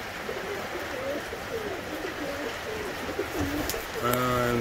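English tippler pigeons coo in a loft, soft low throaty calls repeating under steady background noise, with a clearer, nearer coo near the end.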